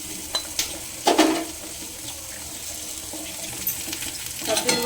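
Boiled eggs added to oil in a pan for egg tadka give a moderate sizzle broken by clattering and stirring scrapes near the start and end.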